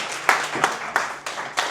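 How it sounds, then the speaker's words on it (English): A leadership conference audience in Sydney claps for a speaker in a brief, steady patter of applause with a few stronger hand strikes standing out, close and fairly loud. "Can we give Miriam a clap?"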